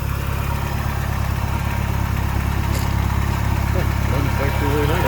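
A 1989 Shelby Daytona engine running on 14-year-old gas idles with a steady low rumble, close and fairly loud throughout, with people talking over it.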